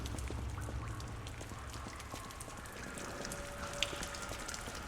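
Steady rain pattering at night around Krat Central Station in the game Lies of P, a dense, even hiss of drops on surfaces with faint scattered splashes and a low ambient rumble beneath, no voices.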